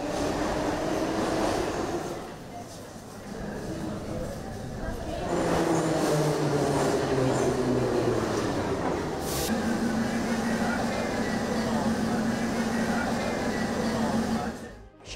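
Baku metro train running through the underground, a steady rumble and rail noise with rising and falling tonal whine from the motors as it moves, continuous and close throughout with a sudden cutoff at the end.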